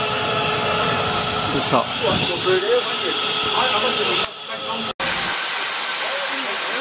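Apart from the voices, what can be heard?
steam injector running with steam turned on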